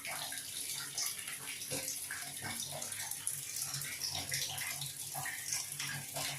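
Water running through a newly installed instant geyser, a steady faint rush of flowing water from a tap continuing without break.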